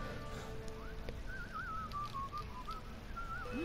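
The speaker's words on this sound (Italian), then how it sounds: "Perché questo fischiettava tranquillo?" A character in the game Assassin's Creed Unity whistles a casual, wandering tune over muffled game ambience, the thin melody rising and falling in short phrases.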